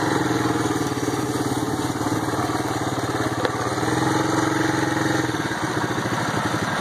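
Air-cooled engine on a golf cart idling steadily nearby with a throbbing, slightly rattly pulse, followed by a brief change in tone near the end; no one speaks.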